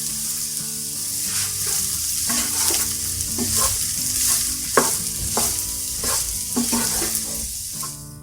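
Potato samosa filling stirred in a pan with the flame off, a continuous loud sizzle overlaid with repeated scraping strokes of a spoon against the pan, close and steady throughout.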